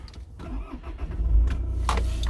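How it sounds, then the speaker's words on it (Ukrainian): A car engine cranks and catches, then settles into a low rumble; brief clicks and clatter come before it. "Якщо я завожу автомобіль"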